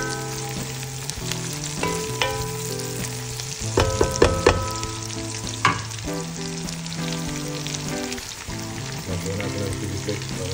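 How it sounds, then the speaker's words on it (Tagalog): Mushrooms being stirred into spaghetti sauce with garlic and onion in a hot frying pan, a steady close sizzle and crackle throughout with occasional spoon scrapes and clinks against the pan. "Mix ko lang. Lagyan na natin yung mushroom."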